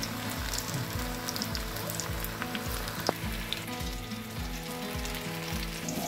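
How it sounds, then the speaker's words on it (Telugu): Marinated chicken pakoda pieces deep-frying in hot oil, a dense, crackling sizzle that carries on throughout with faint low thumps and no talking. "మ్యారినేట్ చేసుకున్న చికెన్ని ఆయిల్లో వేయాలి"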